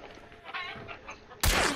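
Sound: chickens clucking being shot in video game Hunt: Showdown

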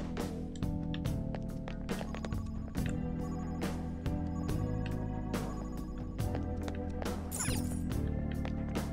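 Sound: phone ringing in video game Persona 5 Royal

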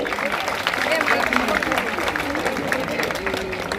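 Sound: audience applauding

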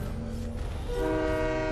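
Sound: train horn in Fortnite video game

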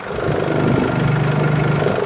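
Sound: Mercedes-Benz E300 engine running

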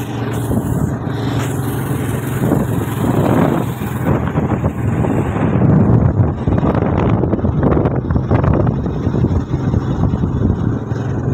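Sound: wind blowing on a mountain

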